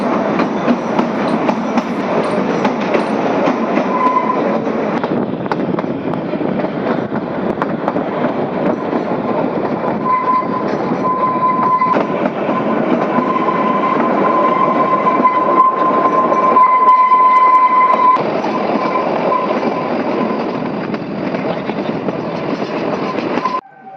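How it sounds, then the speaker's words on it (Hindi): The Kalka–Shimla toy train rolls along narrow-gauge rails in the cold, with a loud, continuous rumble and clatter of wheels and carriages and a steady tone rising through it. The sound runs unbroken throughout. "ये सलगोड़ा स्टेशन से हमारी ट्रेन निकल चुकी"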